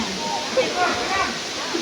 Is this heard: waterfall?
yes